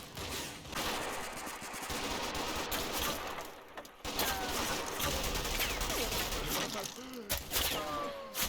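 Vickers medium machine guns firing in the Combat Mission video game during a Monte Cassino battle, dense rolling bursts of gunfire with distant crackling shots and crashes, continuous and layered throughout.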